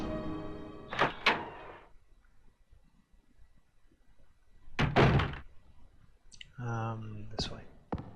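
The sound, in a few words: door opening in video game Resident Evil 2 (PS1)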